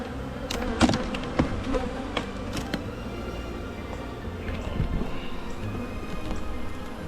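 Honeybees buzz around an opened hive during a routine inspection, a continuous close drone with scattered knocks and clicks of equipment early on.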